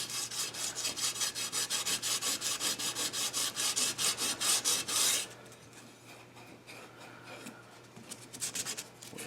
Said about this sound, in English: Some places it's bare metal and I'm actually cleaning light rust off.